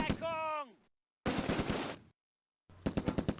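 Gunfire in the WWII tactics game Close Combat: A Bridge Too Far, set in the Schijndel dunes, comes as short separate bursts with pauses between them, including a rapid rattle of close, loud shots.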